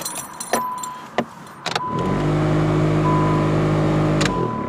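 Vibrating heater fan in a Nissan Sentra stuck on defrost: a few clicks and knocks, then a steady loud buzzing whir with a rattling vibration that holds for several seconds inside the car.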